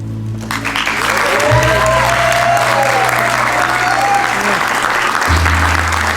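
Applause for the couple at a Chuukese wedding reception on Guam, a steady, loud wash of many hands clapping through the whole stretch, with voices and a sustained musical tone underneath.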